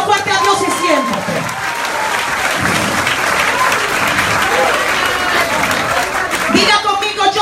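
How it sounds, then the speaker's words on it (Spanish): A church congregation gives God a loud round of applause during a sermon, sustained clapping mixed with crowd noise and some voices throughout. "Dar un aplauso fuerte a Dios y siéntate."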